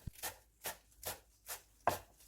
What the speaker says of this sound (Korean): 색감을 살리고 단맛을 더해주는 당근도 조금 썰어주세요.